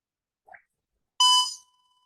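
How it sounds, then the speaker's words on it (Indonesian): A buzzer in a Wokwi embedded system simulation, heard as the simulated machine is switched on, gives one short, bright electronic tone lasting about half a second, preceded by a faint brief blip, then silence. "pertama kali mesin dihidupkan itu ada buzzer yang menyala"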